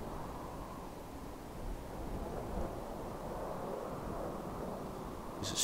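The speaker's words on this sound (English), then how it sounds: "There's a storm moving in as well." A thunderstorm rolls in over the wasteland in Fallout 4, a low continuous rumble and wash of wind and rain that stays steady and fairly distant, then rises sharply right at the end.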